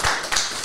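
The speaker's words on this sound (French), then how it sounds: "je pense qu'on peut l'applaudir" Applause from a French talk audience on secularism, a brief burst of claps over under a second, moderately loud and alone.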